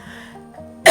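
A single sharp cough bursts out at the very end, after a quiet stretch, triggered by sniffing dry red chilli during a sneezing challenge.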